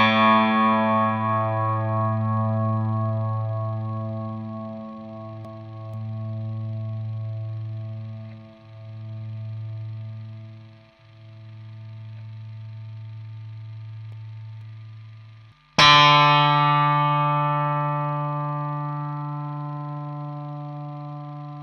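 Two Harley Benton Telecaster-style electric guitars, one with a string-through bridge and one with string-through body, each let a struck chord ring out with long sustain, the first fading slowly in a repeated pulse, the second struck sharply and decaying.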